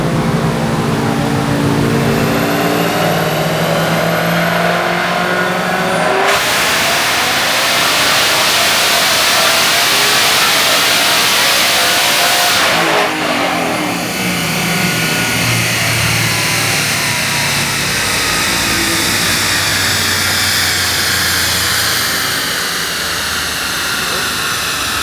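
A Whipple-supercharged 2024 Ford Mustang GT runs on a dyno, its engine roaring loud and close through sustained high-rev pulls with a sharp shift in tone partway, steady and dense for the full stretch.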